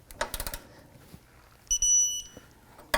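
A digital torque wrench signals as it reaches 30 foot-pounds on a rear coil spring bolt of a 1999-2005 Volkswagen Jetta Wagon, giving a short high electronic tone amid ratcheting clicks and knocks.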